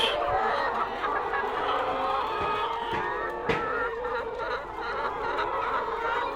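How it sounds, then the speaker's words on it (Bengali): Layer hens on a poultry farm, around five months old, cluck and chatter continuously as a dense flock, with a few sharper calls standing out nearby and no talk over them. "আমাদের লেয়ার মুরগি"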